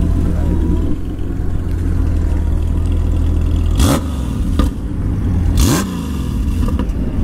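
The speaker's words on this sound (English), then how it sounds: "you wouldn't think a Goldwing would sound like that" Honda Goldwing motorcycle engine revving up twice in sharp bursts over a steady rumbling idle, loud and close, at a motorcycle gear shop.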